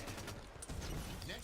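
Rapid assault rifle fire in a Halo 5 multiplayer match, a dense crackling burst of game gunfire with mechanical clatter, steady and loud throughout the short stretch.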